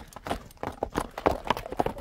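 A Don breed horse's hooves clip-clop restlessly in place, several uneven thuds and scrapes close by, shifting and stamping rather than walking steadily.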